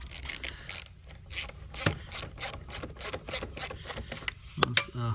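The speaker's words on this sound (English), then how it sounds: "we take out this 10mm right here for the negative terminal. You just loosen it up." A ratchet loosens the 10mm nut on the negative battery terminal of a Mercedes GLB, giving a quick run of close, regular clicks with some metallic rubbing.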